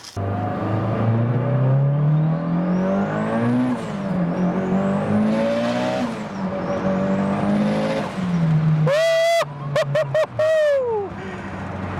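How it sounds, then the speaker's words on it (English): A fast car accelerates hard through several gears, its engine note climbing and dropping with each shift, loud and close, followed by sharp high revving bursts near the end. "God dang, this car is fast."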